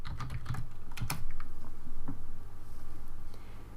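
Soft, quick keystrokes on a computer keyboard while typing into the MATLAB help box, a short cluster of taps at the start, then only a low steady hum, close and quiet.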